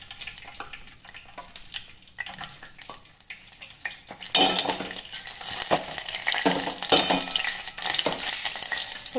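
Green chilies go into a hot pan and are stirred while making a Havyaka-style raw jackfruit dish: scraping spoon strokes and metal clinks over a soft sizzle that swells louder midway, with no talking.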